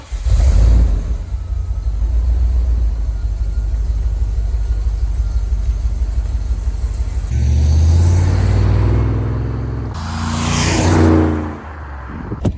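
A Holden VS Acclaim with a swapped-in 5-litre engine drives along, its low engine drone steady under road noise. It rises into louder revving surges as it accelerates and shifts, and no one speaks.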